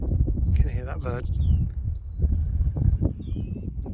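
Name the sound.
bird calling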